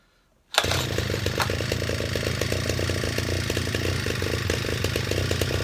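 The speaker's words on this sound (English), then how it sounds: "I'm going to not use a choke on this initial cold start." A tiller engine cold-starts without choke after sitting unused in a shed, catching abruptly after a moment of quiet and then running at a loud, steady, rough close-up idle with no talk.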